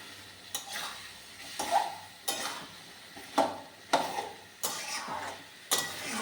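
Meat braising in a pan as kosha, with repeated scraping stirs and sizzling bursts about once a second, close and fairly loud, with no talking.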